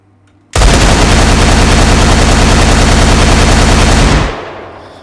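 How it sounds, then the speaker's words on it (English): The War Machine suit's gun firing in a video game, one loud continuous burst of rapid automatic fire lasting about four seconds that cuts off sharply and leaves a short fading tail. "You can fire the shoulder rockets. You can fire the gun."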